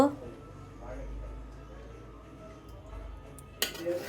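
Dishes and cutlery clink as pulao is served at home, scattered light clatters under a murmur of voices, ending in a sharp louder clatter of plates.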